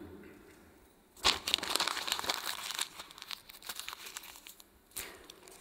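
A sheet of paper is crumpled up close in a few sharp crinkling bursts, with a strong crackling stretch followed by quieter rustles and one final crisp crunch.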